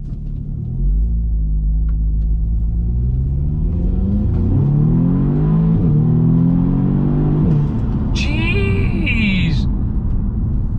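Audi engine with the stock airbox swapped for an open air filter, revving so the intake roars loudly. A deep rumble rises and falls in pitch through the rev, with a brief high whine near the end.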